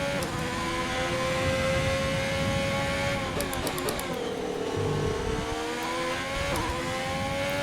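A Sauber Formula 1 car in the F1 2020 racing game, its high-pitched engine whining steadily with gear shifts and a dip in revs midway before climbing again, playing alone at moderate volume.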